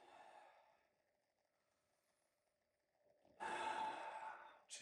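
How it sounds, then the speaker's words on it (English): A person takes a few slow, deep breaths during an integrative practice session, with a soft airy exhale that fades into near silence and then a louder, rushing inhale close to the mic, with no talking. "Some deep breaths."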